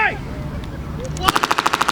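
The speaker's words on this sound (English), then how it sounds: "Shots being exchanged between the two sides." Rapid machine-gun bursts crack out in an even, repeating string during a military vehicle show battle reenactment, loud and close, preceded by a softer stretch of background noise and a distant shot or two.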